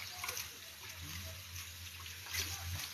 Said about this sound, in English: Water some seedlings.